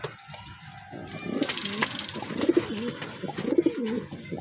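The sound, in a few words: pigeons cooing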